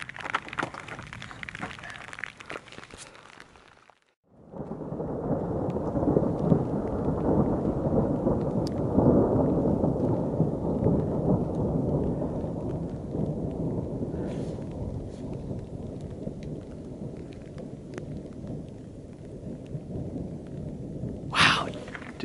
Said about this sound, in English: Keeps on rumbling. That is some awesome thunder.